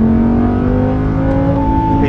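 An Audi R8 on a race track gives a loud, close, sustained engine roar heard from inside the car, its steady tone climbing gradually as the car accelerates.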